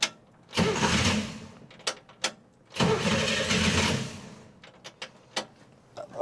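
1966 Chevy Corvair engine with a newly installed HEI distributor cranking twice in long loud bursts, each churning for a couple of seconds without catching, followed by a few short sharp clicks and knocks.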